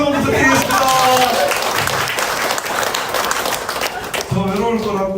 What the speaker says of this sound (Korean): 우리 전현희 최고위원님께 박수 한번 부탁드리겠습니다